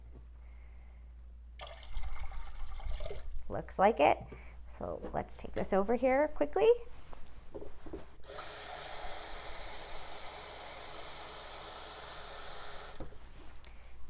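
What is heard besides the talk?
water running from sink tap into bowl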